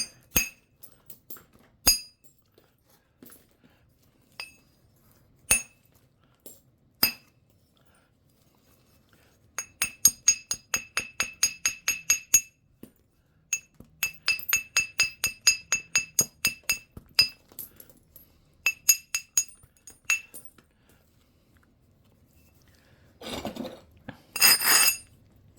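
Flint is knapped by striking flakes off a stone, producing sharp, glassy clinks. Single strikes come first, then rapid runs of close taps, and a burst of scraping comes near the end.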